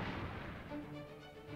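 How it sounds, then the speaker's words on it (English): A booming explosion at the training hall in Princess Peach: Showtime!, a dense low rumble that erupts at once and slowly fades away, with no voices over it. "Hey, there's an explosion over there."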